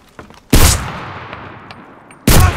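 Loud bursts of MKB-42 H rifle fire in the video game Enlisted, aimed at friendly soldiers: one sharp close report with a decaying echo, then another burst about two seconds later.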